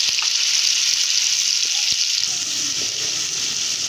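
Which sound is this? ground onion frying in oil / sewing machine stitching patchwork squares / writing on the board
ground onion frying in oil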